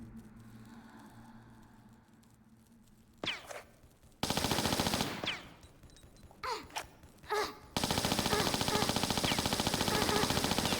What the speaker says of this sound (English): Are you shooting him, girl?